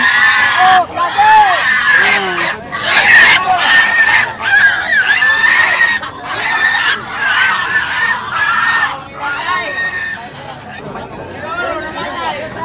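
Pigs at a livestock market squeal and grunt loudly in repeated bursts, mixed with a busy crowd of buyers talking nearby throughout.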